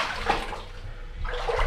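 Cold water flowing through a narrow cave, a steady splashing wash that swells at the start and again near the end, close to the listener.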